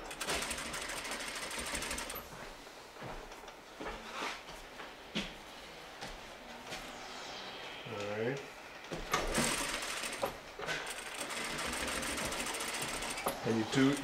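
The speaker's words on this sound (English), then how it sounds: "You should go all the way around with the stitching." A sewing machine stitches a fabric mask in rapid mechanical bursts, stopping and starting several times, with a person talking faintly in between.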